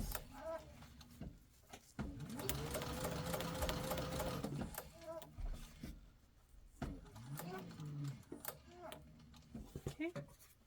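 A sewing machine stitches a seam on a fabric sling in quick whirring bursts that start and stop, with a voice talking between and over the runs.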